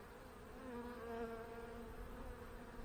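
A dense, steady drone of many honey bees buzzing close by on a hive frame, a soft hum with no talking.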